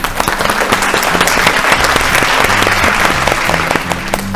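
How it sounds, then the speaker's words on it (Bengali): Studio audience of a family game show breaking into loud, sustained applause, dense clapping that fills the room from start to finish with a few faint voices underneath. "জোরে হাততালি একটা"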